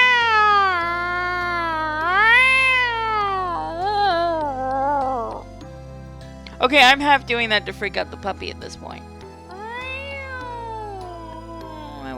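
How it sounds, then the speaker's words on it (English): A cat at an animal shelter meows loudly and repeatedly in long, drawn-out, rising and falling cries. Someone talks over and between the meows, and a short burst of sharper yowls comes near the middle. "Fourth cat I approach is a noisy one"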